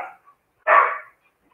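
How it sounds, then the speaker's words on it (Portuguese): A dog in a backyard lets out a single sharp bark, loud and fairly close, after a brief clipped trailing bark at the start, with silence around it. "Se eu for lá no quintal, elas vão continuar latindo, não adianta, porque elas querem latir."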